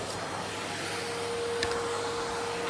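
A vacuum cleaner runs steadily indoors during house cleaning, a constant whirring drone with a thin steady whine, alone with one small knock partway through.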